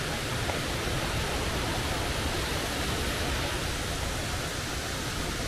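Small cascades at Lakkam waterfalls near Munnar roar in an even, unbroken wash of falling water, close and loud throughout.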